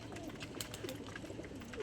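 Pigeons cooing in a home loft, soft low coos repeating amid steady background murmur and faint rustling of several birds close by.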